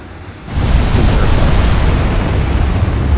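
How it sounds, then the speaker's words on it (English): A deep, roaring blast of high-explosive naval shells fired in Ultimate Admiral Dreadnoughts, bursting in after a brief quiet and rumbling on loud and broad without talk. "we are firing high explosive shells very accurately at a range of 20 kilometers"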